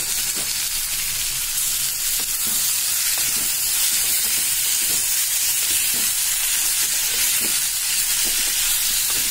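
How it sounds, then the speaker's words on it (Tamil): Tomatoes and onions sauté in a pan for a spicy pepper kuzhambu, making a loud, dense, unbroken hissing sizzle close up, with faint stirring taps beneath. "சேர்க்கிறேன் தக்காளிய நல்லா கலரி விடுங்க"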